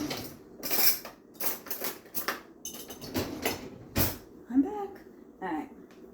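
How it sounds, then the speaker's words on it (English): Metal cutlery clinking and rattling as someone rummages for a spoon in a kitchen, a series of sharp clatters in irregular bursts, fairly close, with a voice speaking briefly near the end. "Hold on, I need to get a spoon."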